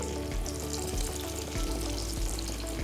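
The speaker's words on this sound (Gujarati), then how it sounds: "ઓકે, હવે હું ફ્રાય કરું છું. આપણા તેલ" Churros frying in hot oil over a medium flame, a steady bubbling sizzle that stays loud and even throughout, with a few soft knocks from the pan or utensil.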